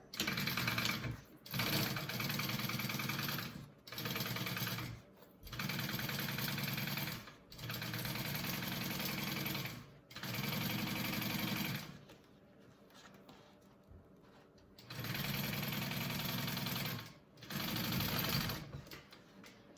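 A sewing machine stitching a bag seam with a 3/8 inch seam allowance, running in several steady bursts of a few seconds each, separated by short pauses and a longer quieter gap.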